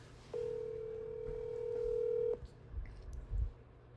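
A telephone tone holds steady for about two seconds while a call is being placed, then stops abruptly, leaving faint low knocks and handling noise in a quiet room.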